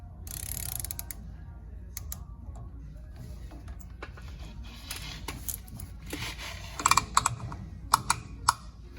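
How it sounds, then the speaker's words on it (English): A wrench turns back the hub nut on a Ford Super Duty rear axle, giving quiet scattered metallic clicks and ratcheting ticks over a low hum, with a few sharper clinks near the end. "Now we're gonna back off the hub nut 90 degrees."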